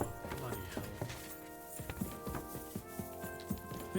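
Horse hooves in the medieval video game Kingdom Come: Deliverance II, a soft uneven clip-clop of steps under game music and someone talking over it.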